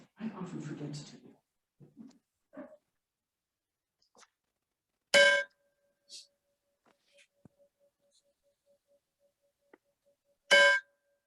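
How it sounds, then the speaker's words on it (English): Gong struck twice several seconds apart, each a sharp loud hit with a long faint ringing tail, between brief bits of speech and small knocks. "I'm going to do the gong"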